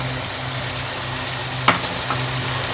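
Ground tomatoes fry with chicken liver over a high flame, giving a loud, continuous sizzle with a couple of brief stirring scrapes.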